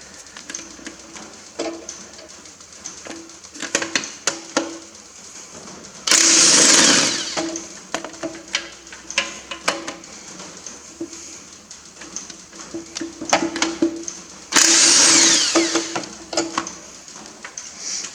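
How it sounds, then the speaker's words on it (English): A pneumatic nut gun undoes nuts on the rear diff housing of a Massey Ferguson 135 tractor in a workshop, two loud hammering bursts of a couple of seconds each amid scattered clanks and shop noise. "The nut gun wants to hit on the microphone bracket."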